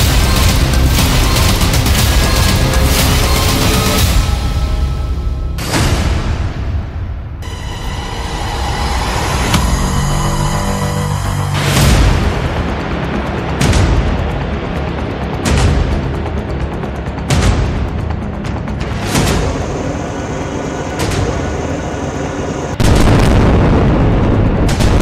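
Airstrike explosions in Gaza during the Israel–Hamas conflict, heavy booms and rumbling blasts recurring through the whole span, loud and dense with sharp onsets and long rolling decays.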